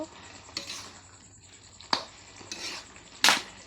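Bottle gourd leaves are stirred in a frying pan in a village kitchen, with a few separate bursts of scraping and rustling over a faint sizzle, fairly close and without talk.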